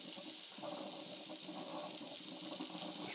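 Buttermilk, about a cup, poured steadily into a biscuit mixture, giving a continuous liquid gushing and splashing sound that stays even and fairly close throughout, with no talking.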